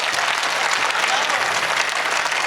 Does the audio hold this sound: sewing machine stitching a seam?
no